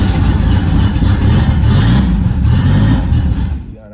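A Volkswagen Beetle engine cranks and runs, a loud close rumbling with revving before cutting out and fading near the end.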